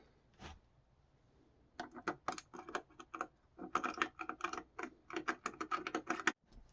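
Small screws being driven by hand into an E-flite RC airplane landing gear wheel pant, a quick run of close, dry ticking and ratcheting clicks in short clusters, with a quiet pause at the start.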